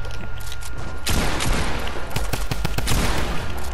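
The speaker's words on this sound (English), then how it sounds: "You can shoot while they're in the air, while your opponent's in the air." Rapid bursts of gunfire from the Fortnite video game, quiet at first and then a loud dense fusillade of shots crackling close for several seconds.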